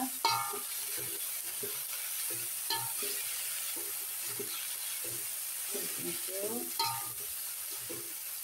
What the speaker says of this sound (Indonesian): Ini kita aduk pemirsa.